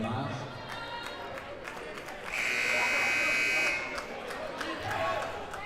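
A basketball arena buzzer sounds with a loud, steady electronic drone lasting over a second during a men's college game against Wilson, under crowd noise and commentary.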